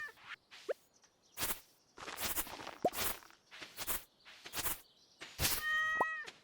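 A cat in the Stardew Valley farming game meows several times in short, bright calls, with soft footstep-like taps and clicks between them, ending in a longer, more tonal mew.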